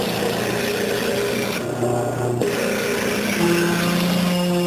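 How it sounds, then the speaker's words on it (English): Stationary disc sander abrading the outside of a wooden bowl, a steady raspy rubbing drone with a brief lighter dip midway, continuous and close with no talk. "A stationary disc sander or belt sander provides one of the easiest ways to sand the outside"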